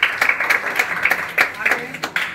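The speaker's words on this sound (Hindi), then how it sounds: "उस 40 से अब उसके लिए ताली मार देना" A classroom of students claps in a short, uneven burst of applause, about a dozen quick overlapping claps heard up close.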